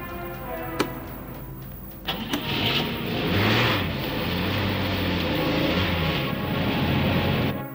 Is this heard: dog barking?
no